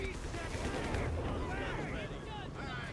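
A heavy artillery barrage in Company of Heroes 3, a dense continuous rumble of distant shelling that runs the whole time beneath a talking voice.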